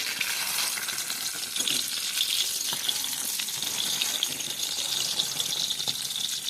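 Shidol pakoras frying in hot oil, a steady dense sizzle with faint clicks as pieces are turned over, close and continuous, with no voices.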